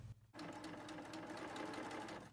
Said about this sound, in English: Now we're going to serge all the way down the edge of the fabric